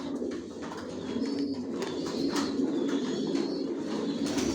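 Racing pigeons cooing inside a loft, soft overlapping coos repeating steadily alongside faint chirps and light rustling, close by with no talking.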